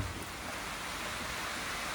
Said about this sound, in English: The rain is just insane.